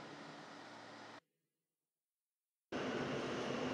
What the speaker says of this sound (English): This is a Church Avenue-bound V train via the F local line.